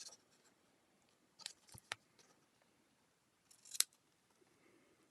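A few crisp scissor snips trimming the ends of shimmery ribbon on a handmade card, sharp isolated cuts spaced apart in a quiet room.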